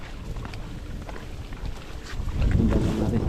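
Gusty wind by a river buffets the microphone in a steady low roar, growing stronger and louder toward the end, with no talking.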